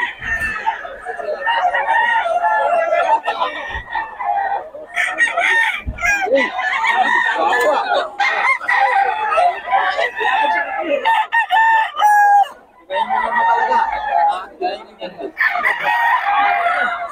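Several roosters crow loud and close, one call after another with overlapping cock-a-doodle-doos and some clucking, at a place where chickens are sold.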